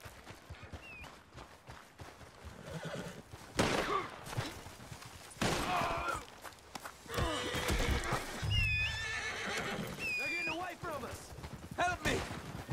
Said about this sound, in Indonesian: Sini kuda, sini kuda.